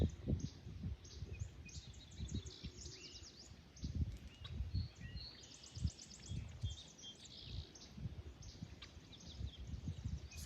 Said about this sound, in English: Can you hear those birds?